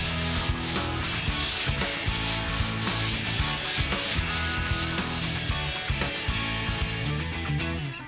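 Stiff brush scrubbing a freshly built wooden deck, drawing tannin from the new boards: a steady, close, loud rubbing and scraping that continues throughout with no talk.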